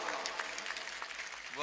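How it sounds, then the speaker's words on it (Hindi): Applause from the audience at a Hindi-Urdu poetry recital (mushaira) in Mumbra rises as a brief burst of scattered clapping, fairly faint and crowd-like, with a voice beginning at the very end. "मुझे एक बार पीछे तक ताली बजा करके हुक्म दें"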